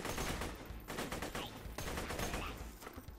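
Rapid, dense SMG gunfire rattles continuously in Borderlands 2, loud bursts with brief gaps, mixed with game effects and a voice talking underneath.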